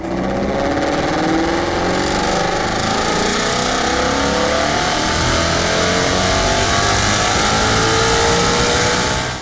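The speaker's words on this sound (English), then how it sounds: "And that exhaust note, that is the way cars were meant to sound." A performance car's exhaust note roars loudly and continuously under hard acceleration, a dense, raspy engine rumble that holds steady for the whole stretch with no talking.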